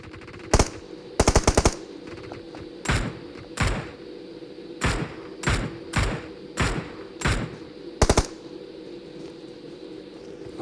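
Gunfire from an enemy shooting from above in PUBG cracks out as a series of sharp shots and short rapid bursts, loud and spaced irregularly over a low background hum.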